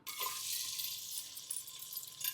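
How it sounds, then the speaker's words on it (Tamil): Onions and green chilies sizzle in sesame oil inside a pressure cooker, a steady bright frying hiss that runs the whole clip with small crackles and no talk. "குக்கரில் வந்து நான் நல்லெண்ணெய் தான் சேர்த்துருக்குறேன் இப்போ வெங்காயமும் பச்சை மிளகாய் இதில் போட்டுக்கலாம்"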